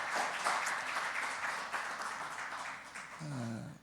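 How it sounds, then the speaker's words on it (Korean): Congregation applauding during a Christmas church service to welcome back an elderly guest, a steady wash of clapping filling the room throughout, with a brief low voiced sound near the end. "크게 박수로 환영하겠습니다"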